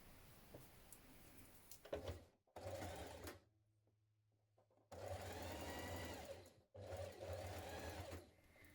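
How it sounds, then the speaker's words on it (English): A sewing machine stitches shirt facing at the shoulder of a Donny Shirt in several close, loud bursts of whirring separated by short quiet pauses. "We're now going to stitch it along the top just there at the shoulder."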